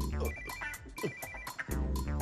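A phone rings with a repeating electronic ringtone melody, a series of bright tonal bursts in a steady pattern, moderately loud and close.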